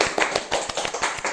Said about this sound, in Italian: un applauso a Giada.